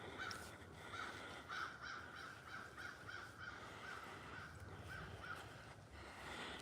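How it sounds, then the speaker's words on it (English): Crows cawing outdoors in Markham, Virginia, repeated harsh calls in short clusters, moderately distant over a low steady background hum, with no talking. "The crows are probably irritating him."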